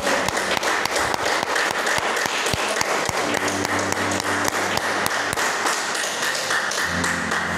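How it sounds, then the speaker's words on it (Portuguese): Church congregation applauds steadily, a dense sustained wash of many hands clapping with occasional sharper taps standing out, filling the room at an even loudness. "Então pode aplaudir o Senhor."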